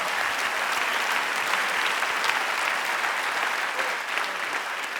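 A church congregation claps hands in sustained, dense applause, a steady wash of many hands that continues evenly throughout without any talk on top.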